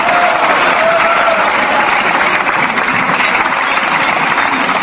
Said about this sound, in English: What's with the cheering and the paper throwing amid the Whigs and the French?